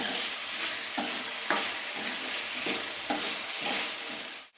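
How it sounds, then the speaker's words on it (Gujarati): Ginger-chili paste frying in a pan for farali kadhi, a steady loud sizzle running throughout with a few stirring scrapes at regular intervals, with no voices over it. "હવે આ 1 ચમચી આપણે આદુ મરચાંની પેસ્ટ નાખશું"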